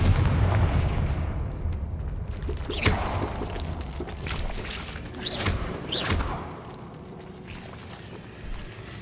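Confringo blasting spells in the video game Hogwarts Legacy set off a dull booming rumble with several sharp blast bursts, then fade to a quieter low ambience.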